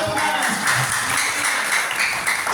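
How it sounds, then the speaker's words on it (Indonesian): A church congregation applauding after a sermon, dense steady clapping from many hands filling the space, loud and sustained for a couple of seconds. "Tepuk tangan."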